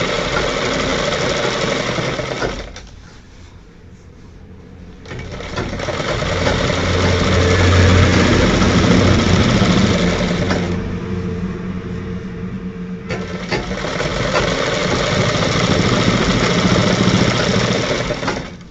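Sewing machine stitching a double front placket on a shirt, a fast steady mechanical whir running in long bursts with two brief pauses between, close and loud, no talking.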